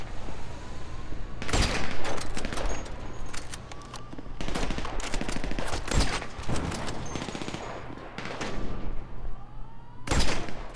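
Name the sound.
gunfire in video game Grand Theft Auto V heist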